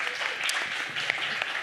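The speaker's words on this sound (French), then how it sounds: "Une bonne main d'applaudissements." Audience applause at an evening presentation event in Montréal, a dense, steady burst of many hands clapping from a crowd in a hall.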